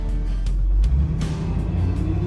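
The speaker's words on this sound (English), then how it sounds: "This truck has a great sounding exhaust on it" A 1981 Chevrolet C10 pickup truck's engine and exhaust rumble low and steady nearby, with a slight swell as it pulls away, no voices.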